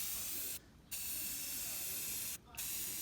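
A steady, close hiss of spray coating is laid onto a car part from a 1970 Super Bee, broken by two brief pauses.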